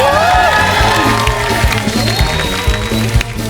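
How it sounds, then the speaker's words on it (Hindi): Loud studio audience applause and cheering on a comedy talk show stage, a dense continuous wash of clapping and whoops with music tones mixed in, lasting a few seconds. "जोरदार तालियां"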